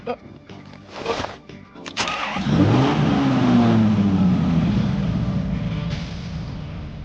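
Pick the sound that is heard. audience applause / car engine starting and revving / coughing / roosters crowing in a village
car engine starting and revving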